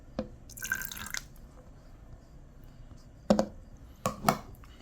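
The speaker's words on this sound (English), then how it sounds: "Now you put your vanilla extract." Vanilla extract poured into coconut flour keto pancake batter with cream cheese and eggs, heard as a few brief, soft drips and wet splashes spaced across an otherwise quiet moment.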